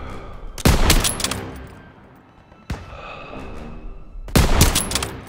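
Gunfire in the Call of Duty: WWII shooter during a street fight, with three loud separate bursts of shots and rumbling echoes between them.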